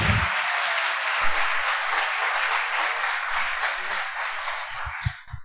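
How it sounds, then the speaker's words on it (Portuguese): Congregation applause filling a church service, broad steady clapping from many hands that holds for several seconds and tapers slightly at the end, with a few low thumps near the close. "Agora dê um aplauso, pelo menos porque eu fiz 60 anos."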